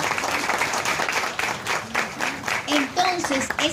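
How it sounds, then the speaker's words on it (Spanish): Audience applause in a Spanish-speaking hall honoring a writer from Cotuí, steady broadband clapping through the whole stretch with some voices and a brief sung or called tone rising over it near the end. "Un aplauso para Luisa, para Mélida García."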